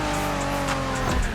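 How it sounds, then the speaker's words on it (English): A Honda NSX sports car in a racing game rips along with a loud engine drone, its tires squealing as it slides through a turn, close and continuous. "Are you familiar with the Honda you're driving? The NSX isn't your regular street car."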